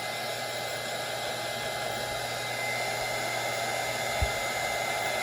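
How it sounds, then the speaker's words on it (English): A heat gun blows a steady, even rush of hot air over an epoxy snowglobe tumbler spinning on a turner, with a constant broadband hiss throughout and one brief low thump near the end. "So I'm just kind of chasing my ink swirls with the heat gun as it spins"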